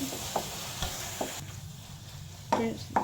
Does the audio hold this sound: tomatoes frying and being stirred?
yes